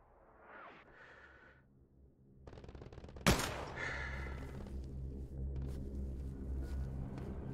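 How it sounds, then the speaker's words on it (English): Gunfire aimed at the player in the video game Hell Let Loose: scattered shots build into a sharp, loud crack, followed by rumbling bursts and a low, continuous engine-like drone. "Somebody fucking firing rounds at me."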